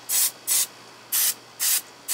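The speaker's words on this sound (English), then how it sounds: "spray everything that you see that's got rust" Four short hissing bursts from a spray can of rust treatment on a 1997 Crown Victoria Police Interceptor's steering gear, evenly spaced with brief silences between them, close and clear.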